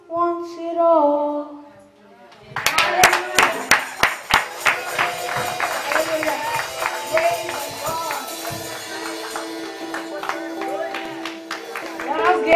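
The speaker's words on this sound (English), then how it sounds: "Give the young man a big hand clap again" A congregation at an Easter praise and worship service claps for a young man. A voice comes first, then a quick run of sharp claps starts and settles into continuous rhythmic clapping with music and singing.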